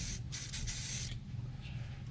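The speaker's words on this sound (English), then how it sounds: "I'm going to spray it on there." Short bursts of hissing spray from an aerosol can of Kroil penetrating oil onto a brake bleeder nut, close by, followed by a quieter stretch of faint handling noise.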